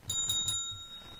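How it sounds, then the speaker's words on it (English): A bell rings three quick bright dings close by, then its tone fades away alone. "But ring the bell for me, too"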